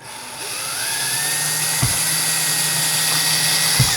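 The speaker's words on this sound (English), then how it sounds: "you can use the drill to save yourself some time." A power drill runs steadily, driving a screw into a switched electrical receptacle, its high whine holding through the clip, with two brief thumps from the workpiece near the middle and end.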